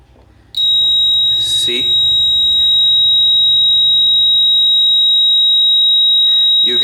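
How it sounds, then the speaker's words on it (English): A homemade earthquake alarm built from a relay and pendulum sounds a loud, steady high-pitched electronic buzz that starts abruptly and holds without break, with faint handling noises and brief talk behind it. "when the earthquake comes, the alarm start works"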